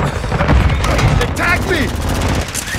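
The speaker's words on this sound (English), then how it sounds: "Throwing Semtex!" A Semtex grenade blast in Call of Duty Warzone Resurgence, a loud burst amid continuous rattling gunfire and booms, with a voice calling out over the fighting.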